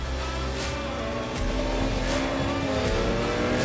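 A race car roars and accelerates in a racing video game, a loud close engine climbing in pitch, with a brief squeal layered in.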